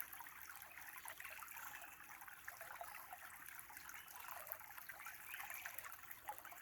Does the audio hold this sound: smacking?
no